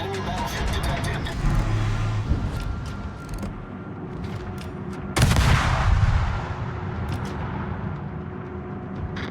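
Naval gunfire in the World of Warships video game: one heavy booming blast about midway stands out over a constant low engine-like rumble, with a voice talking at times.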